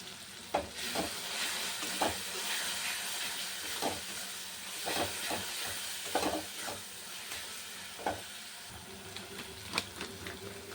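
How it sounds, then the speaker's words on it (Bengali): Spice paste fries in hot oil with salt and turmeric for an egg biryani, giving a steady close sizzle broken by regular scraping strokes of a stirring spoon against the pan. "মশলাটা কষিয়ে নিই তাদের দেখা এরকম তেল বেরিয়ে গেছে লবণ দিয়ে দিলাম হলুদ দিয়ে দিলাম"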